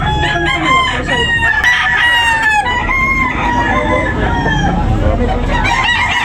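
A rooster crows loudly and repeatedly over a busy background of other fowl and clucking at a gamecock market, with steady ambient noise throughout.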